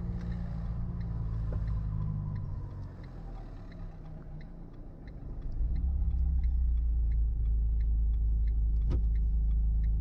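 A car rolls slowly in first gear through town during a driving lesson, its engine a low steady rumble that swells louder partway through, with faint ticking above it.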